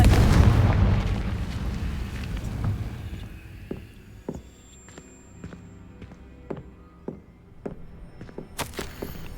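Confringo spell explosion in Hogwarts Legacy, with a loud, deep blast that rumbles and fades over a few seconds, followed by scattered clicks and light thumps.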